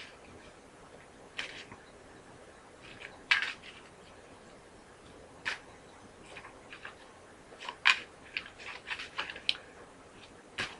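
Oracle cards being shuffled by hand, giving a quiet run of soft papery flicks and riffles with sharper snaps spaced unevenly through the stretch, close and low in level with no voices.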